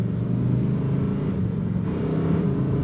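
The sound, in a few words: Lamborghini Huracan Sterrato engine puttering in Strada mode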